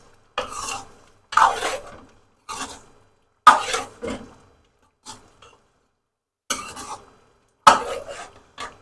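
Spice masala stirred in a pot for restaurant-style chicken karahi: a series of short, separate scraping and rasping spoon strokes against the metal, loud and near with brief silences between them.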